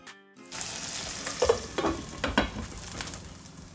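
Okra sizzles and fries in a pan, a steady crackle near the mic with a few stirring clatters after a quiet opening.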